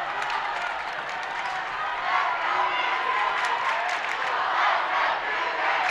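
Shawnee Mission Northwest student crowd at a high school boys basketball game cheering loudly and doing the Cougar coaster, a dense, steady roar of many voices with shouts rising in waves throughout.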